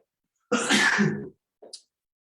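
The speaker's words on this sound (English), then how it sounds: "excuse me, I'm gonna sneeze." A single loud, close sneeze with a bright burst, followed by a brief softer sniff or breath a moment later.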